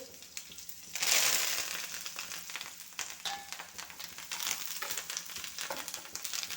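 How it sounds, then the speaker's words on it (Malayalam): Mustard seeds frying and popping in hot oil, a steady close sizzle with scattered crackles that swells loudly after a brief quiet start, then carries on with small pops and hiss. "ഇപ്പോൾ നമ്മൾ ഇത് കടുവ് വറുത്തിട്ട്"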